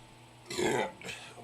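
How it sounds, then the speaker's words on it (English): A single deep, rumbling burp follows chugging beer, close and fairly loud, lasting about half a second with a brief trailing throaty tail. "it's going to be big burps coming up soon"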